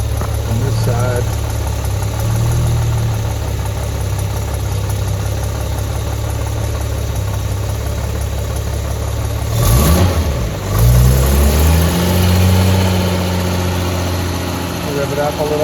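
A 1964 Jaguar E-Type engine idles steadily up close with a low, even hum, then revs briefly in a quick rise and fall before settling back to idle. A voice is faintly present.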